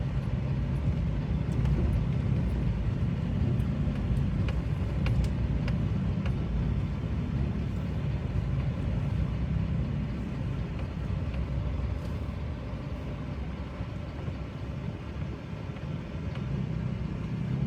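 Steady morning road traffic on Rojas Avenue Extension in barangay Andagaw rolls past as a continuous low rumble of engines and tires, with no single vehicle standing out and no voices.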